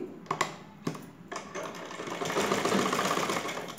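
A sewing machine stitches a folded blouse edge, starting after a few sharp handling clicks and building into a steady, close mechanical whir over the last couple of seconds.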